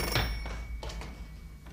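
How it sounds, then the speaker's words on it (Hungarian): A telephone rings briefly in a quiet room during a Hungarian language lesson, a short electronic ring with a few bright bursts over low background hum. "Telefon."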